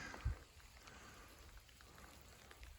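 Steady soft rain patters on a surface on the Appalachian Trail, a faint continuous hiss with one brief low thump near the start.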